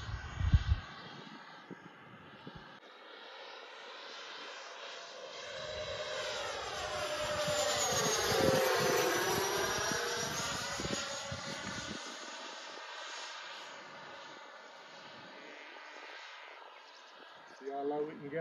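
Freewing Me 262 jet model aircraft makes a low flyby, its ducted-fan whine rising and sweeping downward in pitch as it passes close, then fading, with brief voices and handling noise at the start and end.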